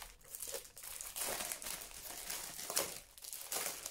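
Crinkly plastic packaging around a paper collection rustles and crackles in continuous soft bursts as it is unwrapped, close by but fairly quiet, with no talking.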